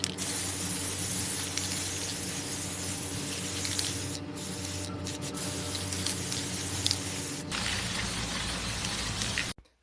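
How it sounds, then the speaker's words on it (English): A continuous hissing spray from an aerosol spray paint can, held close for several seconds with brief pauses, then cut off abruptly at the end, painting spice jars outdoors. "I'm going to take this outside and spray paint it now"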